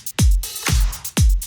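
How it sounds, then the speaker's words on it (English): Hi-hats synthesized from a recorded noise sample, driven by an arpeggiator in Ableton's Simpler, alongside a deep pitched kick-like thump that repeats three times with airy noisy hats ticking between, loud and close. "I wanted to show you a little technique to make your own hi-hats using a noise sample"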